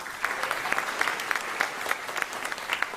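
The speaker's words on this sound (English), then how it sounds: "please give her a very big round of applause" An audience at an alumni reunion in Tunisia applauds steadily for about three seconds, a dense, even patter of many hands with small recurring swells and no voices rising above it.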